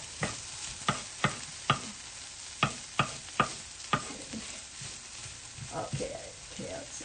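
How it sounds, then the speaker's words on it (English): Broccoli and cashews sauté in a pan: a series of sharp spatula knocks against the pan comes first, then a softer, steady sizzle and stirring continue. "See, these are sauteing really nice."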